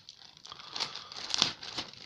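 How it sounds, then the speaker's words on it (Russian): A very dense plastic bag from a Tamiya 35128 model kit box is handled up close, crinkling and crackling in uneven bursts that swell toward the middle and end, with no speech. "Очень плотный пакетик."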